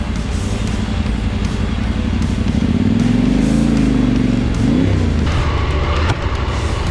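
A Husqvarna Norden 901 motorcycle rides uphill off-road, its engine droning loud and close, rising and falling in pitch as the throttle changes, with wind buffeting throughout.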